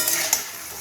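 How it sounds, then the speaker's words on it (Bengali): A spoon stirs ash gourd peel curry in a pan, giving a brief, soft scraping sizzle with a couple of light utensil taps. "আবার একটুখানি নাড়িয়ে দেব।"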